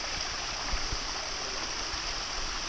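Cold stream water flowing and burbling around a rolled ankle, a close, steady wash of trickling water with no talk.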